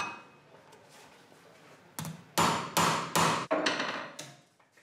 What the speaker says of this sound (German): Erste Hilfe mit dem Hammer.